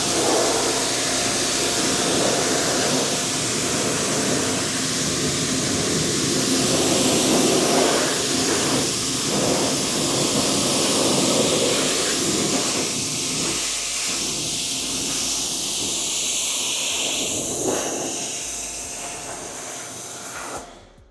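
A hose or pressure washer sprays water onto a wheel and tire after cleaner, a loud continuous hissing rush that shifts as the spray moves, then fades and cuts off at the end.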